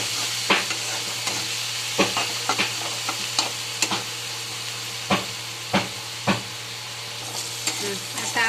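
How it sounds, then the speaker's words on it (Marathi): Onion and tomato with turmeric and salt sizzle steadily in a kadhai while a spatula scrapes and taps the pan in irregular strokes, close and clear over the constant frying hiss. "आता हे सगळं परतून घेऊ."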